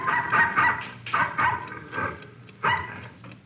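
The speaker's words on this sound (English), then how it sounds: "the occupants were awakened by the barking of a dog." A single dog barks repeatedly at night in a Texas radio drama effect, several sharp close barks in uneven bursts with short pauses, no talk over them.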